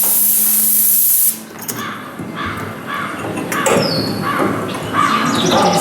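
A hand sprayer gives one steady, close hiss lasting about a second as it sprays a cow's teats at a museum milking exhibit. Busy indoor crowd ambience with faint chirps follows.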